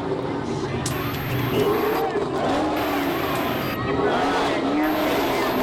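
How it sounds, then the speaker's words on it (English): Car engines rev and roar continuously at a street parade in Corpus Christi, Texas, pitch rising and falling in sweeps, with voices mixed into the steady rumble. "While they are revving up their engines and showing off to the parade crowd"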